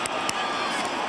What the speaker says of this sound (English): Crowd looking on the board and reacting, thought maybe it wasn't a catch